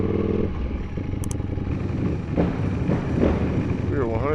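Ducati Panigale V4 SP2 motorcycle being ridden, a steady loud engine and wind roar throughout with rising revs toward the end, close to the microphone, with brief voices.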